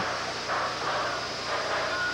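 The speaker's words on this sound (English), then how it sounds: "Here's a Pacific and a Royal Hudson on a passenger train." Steam locomotives, a Pacific and a Royal Hudson, haul a passenger train in the early 1950s, heard as a continuous, fairly loud rumbling hiss of train noise with no clear chuffs.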